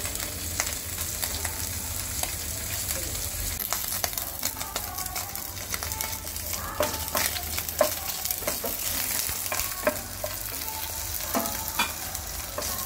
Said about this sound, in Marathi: आता हे फ्राय करून घ्यायचे